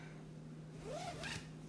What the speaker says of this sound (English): And then I'll zip it up.